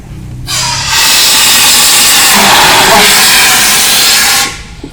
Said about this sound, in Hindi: इतनी सी साउंड आएगी, गैस निकलेगी और बेस ऑन द फायर नज़दीक से आग बुझ जाएगी